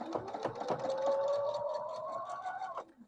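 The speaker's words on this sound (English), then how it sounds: "I'm going to sew right on that mark line, right on it." A sewing machine stitches along a marked line on a quilt block in one continuous, close, buzzing run, then stops abruptly near the end.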